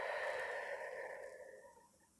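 A single slow, deep breath released during a gentle guided meditation: a soft, airy exhale that starts close and fades away over about two seconds.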